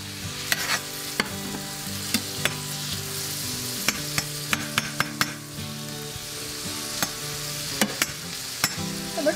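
Sausage and ham frying in a pan for breakfast pizza, a steady soft sizzle with sharp, scattered clicks and taps of a utensil against the pan, no voices.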